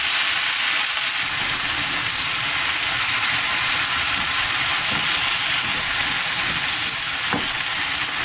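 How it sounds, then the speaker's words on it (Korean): Spinach stir-frying with onion and garlic in a frying pan gives a loud, dense, unbroken sizzle up close, with faint stirring knocks under the hiss. "시금치를 양파와 마늘이 볶아지고 있는 프라이팬 안에 넣어주겠습니다"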